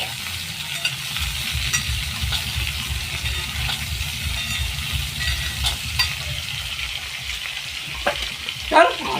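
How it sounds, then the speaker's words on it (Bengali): Potatoes fry in a pan with a loud, continuous crackling sizzle over a low rumble. A brief clatter of stirring comes near the end, and no one talks. "একটুখানি আলুটা ভাজা হোক"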